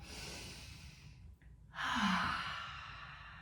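A deep breath during a gentle beginner's yoga flow, a long airy inhale, a short pause, then a fuller, louder exhale through the mouth, close and soft.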